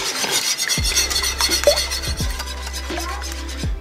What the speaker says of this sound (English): I'm just gonna kind of give it a rough little whisking